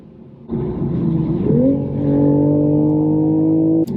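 In sport mode, a 2023 Toyota Supra A91 engine surges from a quiet start into a loud drone, its pitch climbing sharply at about one and a half seconds and then holding high and steady before cutting off abruptly.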